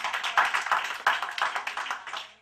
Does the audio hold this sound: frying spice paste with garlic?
no